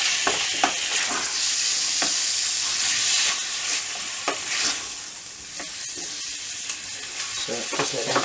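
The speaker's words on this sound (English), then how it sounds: "So just let them fry off." Chicken livers fry in a hot pan with a loud, dense sizzle and hiss, close up, broken by occasional sharper spits and utensil stirs, with no talking.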